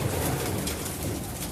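Racing pigeons in a loft give soft, low cooing amid a busy background hum.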